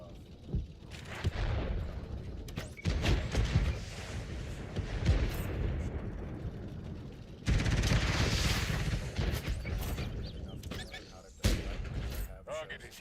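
Tank cannon fire and explosions from World of Tanks boom repeatedly over a rumbling battlefield din, with a voice talking throughout.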